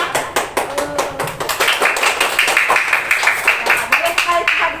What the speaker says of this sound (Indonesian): boleh tepuk tangan untuk kelompok 3